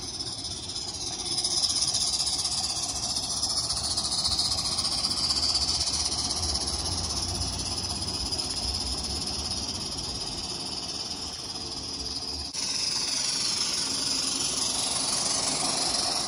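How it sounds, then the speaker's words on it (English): A 1:29 scale live steam USRA 0-6-0 locomotive hisses continuously, a loud, close, steady rush of steam running without pause, with no talk. "Live steam at its finest."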